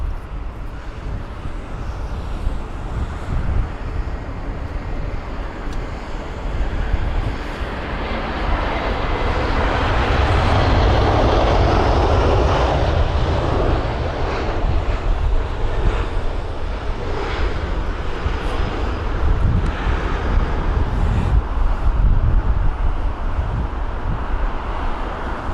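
Aer Lingus airliner in older livery, flight EI386 from Shannon, landing at London Heathrow on a windy day; a steady loud engine roar with heavy wind rumble, swelling slightly midway and holding throughout, with no talk.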